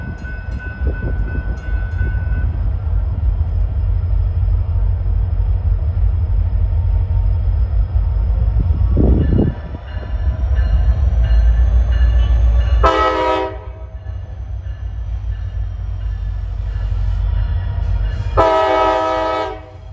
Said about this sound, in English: He's got a pretty loud K5LLA horn. This is an SD60M leading.